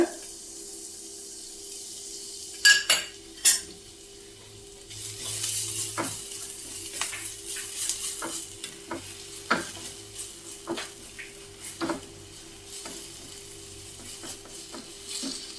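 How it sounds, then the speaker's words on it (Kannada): Garlic-ginger paste fries in melted butter in a pan for pav bhaji, with a faint sizzle under sharp, irregular scraping and clinking as it is stirred, the clatter picking up in the second half. "ಬೆಳ್ಳುಳ್ಳಿ ಶುಂಠಿ ಪೇಸ್ಟನ್ನು ಹಾಕಿ ಫ್ರೈ ಮಾಡೋಣ"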